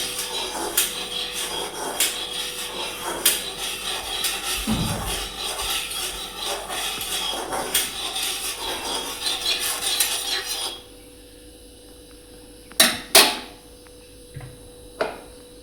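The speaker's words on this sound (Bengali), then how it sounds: "তেলটাই সব দিকে কড়াই নাড়াইয়া চাড়াইয়া দেই, তো বালা করে গরম হয়ে যাইব।" Wok with mustard oil tilted and shifted over the heat, a scraping metallic rumble for about ten seconds, then quiet with a few sharp knocks near the end.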